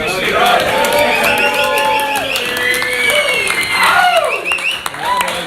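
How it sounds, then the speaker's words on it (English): Audience applause and cheering at a Hitman Dougie OG competition, a loud steady crowd clapping with whoops and voices rising and falling throughout. "round of applause"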